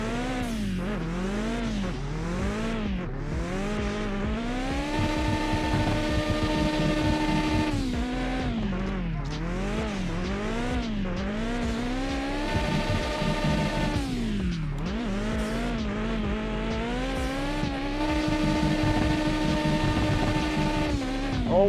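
Car in the game Mon Bazou spinning donuts with squealing tires: the engine revs rise and fall in repeated surges over a steady roar, close and loud throughout.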